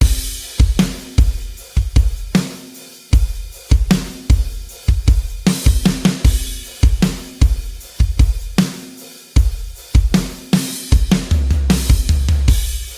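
Punchy pop country chorus drum groove with a steady kick and snare backbeat repeating evenly over several bars, loud and close, with no voices.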